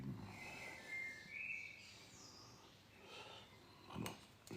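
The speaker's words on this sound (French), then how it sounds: "Alors, je vais vous laisser écouter les oiseaux." Birds singing outdoors, faint chirps and short whistled phrases scattered over quiet background, with a couple of soft clinks.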